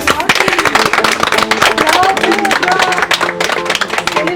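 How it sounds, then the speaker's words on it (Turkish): Applause at the opening ceremony of a beauty salon in Ümraniye, a crowd clapping densely and steadily for several seconds, loud and close, with some voices mixed in. "Alkış."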